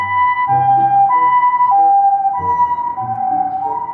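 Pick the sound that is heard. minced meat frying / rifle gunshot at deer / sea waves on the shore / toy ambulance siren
toy ambulance siren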